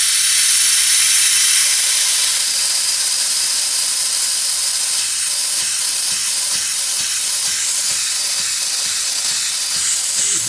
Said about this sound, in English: I'm putting the air nozzle into the hose now.